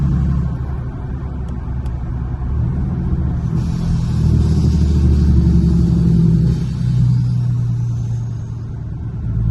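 A 2020 Ram 2500 pickup with an S&B intake and 5-inch exhaust, heard with windows down, rumbles steadily with a loud, low drone and a rush of wind, swelling slightly midway as it accelerates.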